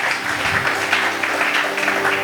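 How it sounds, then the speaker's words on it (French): A church congregation at a French-language dream seminar breaks into steady, dense clapping that fills the whole moment, loud and close with no break. "Acclamons la parole du Seigneur."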